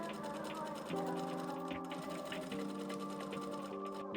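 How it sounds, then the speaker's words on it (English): A sewing machine stitches from the lining side through thick layers of a corset top, running as a steady close mechanical hum with a faint rhythmic needle chatter. "We're going to sew from the lining side this time."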